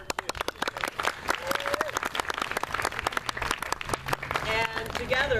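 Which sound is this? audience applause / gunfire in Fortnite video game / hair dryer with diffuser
audience applause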